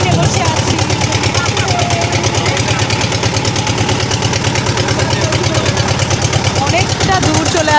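A motor boat carrying passengers along a wide river toward the Ratargul swamp forest in Sylhet. Its engine chugs in a fast, even pulsing throb, loud and close throughout.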